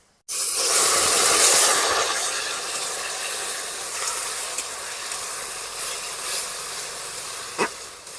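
Ground spice paste of green chilli, black pepper, coriander, cumin and fennel hits hot oil in a kadai with a sudden loud hiss, settling into a steady broad sizzle that fades slightly, with a faint clink near the end.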